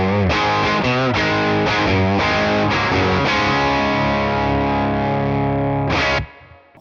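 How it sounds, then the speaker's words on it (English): Electric guitar played through a Tone King Imperial tri-tube preamp with a Boss EQ pedal adding a level boost: loud, thick overdriven chords strummed in rhythmic bursts, then a long sustained chord ringing out before a final stab and a sudden cut. "Now let's throw a little Boss EQ with some level boost at it."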